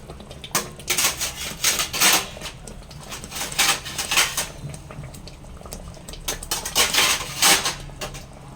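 Pots, pans and utensils clatter and clink in a home kitchen while chicken curry is cooked in a hurry, with repeated close bursts of metallic rattling and scraping and no talk.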